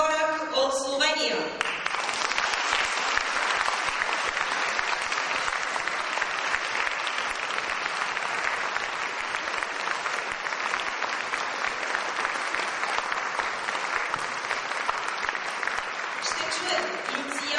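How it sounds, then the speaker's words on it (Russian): Concert audience applauding a performer at a classical sonata recital, a loud dense sustained clapping that lasts the whole stretch, with a brief spoken announcement just at the start. "Сега моля вашите аплодисменти за професор Марина Хорак от Словения."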